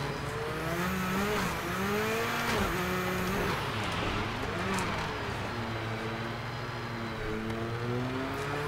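A race car in Project Cars 2 slides sideways around a snowy winter track, its engine revving up and down in steady waves with faint tire hiss, with no talk.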